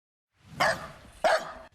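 A dog in a Ukrainian village gives two sharp, close barks about half a second apart, loud against otherwise quiet surroundings.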